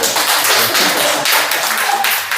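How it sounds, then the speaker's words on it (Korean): Congregation in a church giving a short burst of applause during a dedication service, dense and fairly loud clapping that fills the brief moment with little speech. "우리 권사님 위해서도 박수 쳐주셔요."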